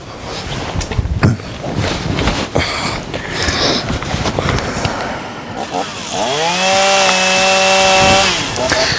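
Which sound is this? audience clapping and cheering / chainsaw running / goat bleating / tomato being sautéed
chainsaw running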